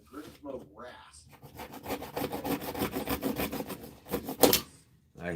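A Grims rasp is worked against a knife handle in quick back-and-forth strokes. The coarse, rhythmic scraping is close and fairly loud, with a couple of short pauses and a sharper stroke near the end.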